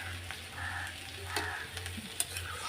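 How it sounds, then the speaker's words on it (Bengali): Fish pieces simmering in a low-oil curry in a pan give a steady soft bubbling sizzle close by, with a few light clinks and faint rustles, and no talking. "দিয়ে দিলাম মাছগুলো এবার ফুটুক"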